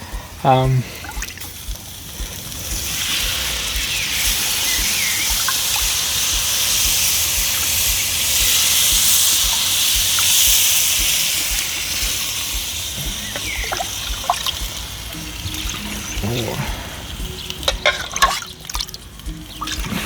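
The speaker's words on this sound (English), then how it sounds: "we are able to add our broth" Broth pours into a hot paella pan with shrimp, giving a steady loud sizzling hiss and bubbling that runs for many seconds, with a few clinks and a voice speaking near the end.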